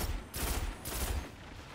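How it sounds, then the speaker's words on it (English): Gunfire in a first-person shooter video game sounds as two short, faint bursts of rapid shots separated by a brief pause, with no talk over them. "I hit some pretty good shots there."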